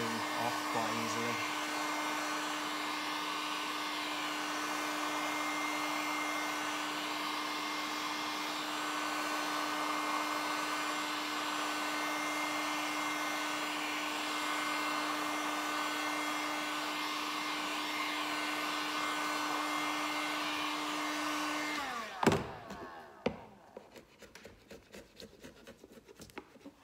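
Heat gun blows hot air in a steady whirring drone on a guitar to soften dried glue, then switches off and winds down, followed by faint scraping and rubbing.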